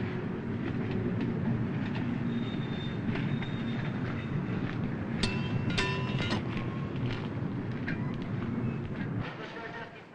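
Railway wagons roll through a marshalling yard in a steady, continuous rumble, with brief metallic squeals and clanks around the middle; someone narrates in French over the noise.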